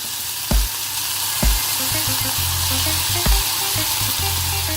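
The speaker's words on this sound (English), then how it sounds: "Now I'm adding my bell peppers to the frying pan" Steady broadband sizzling of bell peppers frying in a hot pan, with a few soft thumps and clinks of a utensil stirring.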